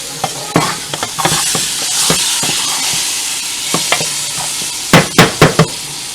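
Hassar fish curry frying in a pot, with a constant oily sizzle broken by spoon scrapes and stirring knocks, which become sharper and more frequent toward the end.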